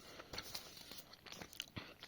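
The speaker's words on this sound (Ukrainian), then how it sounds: "Ось пакетик відкриваємо його." Close, quiet crinkling and tearing of a paper packet, a few sharp crackles scattered over a couple of seconds.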